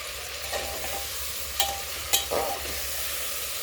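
Chicken and potato pieces frying with masala in a pan for a biryani, a steady sizzle with a few sharp scraping stirs of a spoon, close and without talk.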